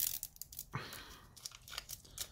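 A plastic zipper bag of toy Mini Brands packaging tears and shreds as it is pulled open, giving close, crinkly ripping and rustling bursts in uneven spurts with one sharper rip early on.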